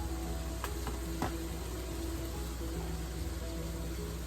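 Noodles stir-fried with seasoning in a pan, a steady soft sizzle with a few brief scraping clinks from stirring, fairly faint and continuous.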